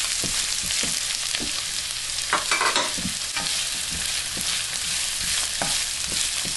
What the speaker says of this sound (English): I'm gonna caramelize the onion